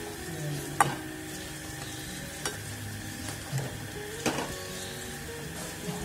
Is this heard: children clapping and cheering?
no